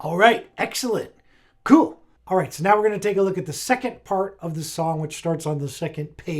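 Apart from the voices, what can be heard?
No everyday noise stands out behind the speech.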